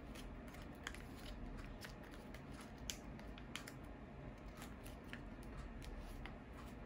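Paper is folded by hand into a spinning top, with soft, scattered crinkles and light creases over a faint, quiet background.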